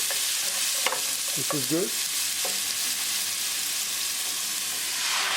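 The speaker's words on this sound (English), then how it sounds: "Add ginger, garlic and green chili paste. And mix it." Ginger, garlic and green chili paste fries in a pan with a loud, steady hiss and sizzle, a few faint scrapes of stirring near the start, and someone speaking briefly over it.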